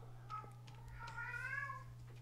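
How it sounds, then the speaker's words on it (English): A house cat meows loudly and drawn out close to a livestream microphone, after a few soft clicks, over a low steady electrical hum. "Sorry, my cat's being like crazy right now."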